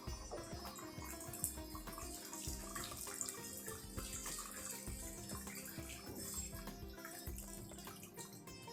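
Water is poured into a pot of boiling rasam, giving a continuous faint splashing and bubbling stream with no voices over it.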